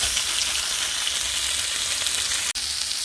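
Hamburger patties frying in a pan at home, a steady close, even sizzle and crackle filling the whole moment, with one sharp brief tick near the end.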